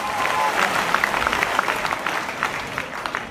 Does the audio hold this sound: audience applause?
yes